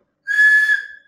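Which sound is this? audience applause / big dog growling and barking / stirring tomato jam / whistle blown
whistle blown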